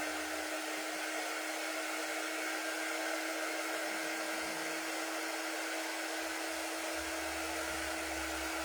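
A hair dryer runs steadily and close by, a constant loud whoosh of blown air with no pauses and no talking throughout.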